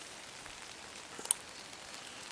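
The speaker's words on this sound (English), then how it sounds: "It's starting to rain quite a bit" Soft, steady patter of rain on a surface, a light wash of drops with a couple of slightly louder taps.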